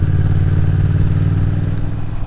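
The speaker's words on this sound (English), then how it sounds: "here we are, riding the Royal Enfield Himalayan" Royal Enfield Himalayan motorcycle (2021) engine while riding, a loud, close, steady low thumping drone with a regular pulsing beat throughout.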